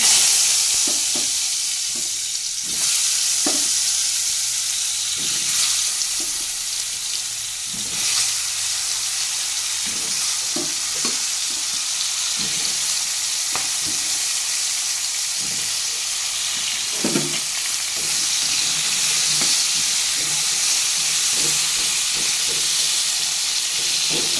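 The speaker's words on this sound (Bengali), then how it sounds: "এখন একটু লালচা করে পটলগুলোকে ভেজে নেব" Pieces of pointed gourd (potol) frying in oil in a kadai, a steady close sizzle with a continuous hiss and occasional scrapes and clinks of stirring, and no voices.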